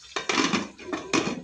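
A metal lid set onto a pan of simmering capsicum tomato curry, a few quick clattering knocks and scrapes close by, each short and bright, with no talking.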